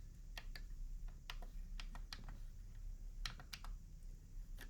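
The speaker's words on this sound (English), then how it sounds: "I'm clicking each one and it's responding on the screen." Buttons being pressed one after another on a Contour Shuttle Pro v2 editing controller, a scattered series of crisp, quiet plastic clicks at an uneven pace over a faint steady hum.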